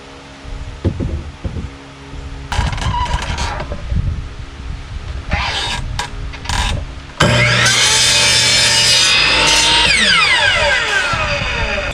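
Miter box saw cutting a 45-degree angle through flower box lumber, starting with scattered knocks and short hand-saw strokes, then becoming a loud, sustained, close cutting roar with a rising whine for the last few seconds.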